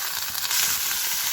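Chopped onion and garlic frying in a pan, a short burst of steady close sizzling with a brief swell partway through.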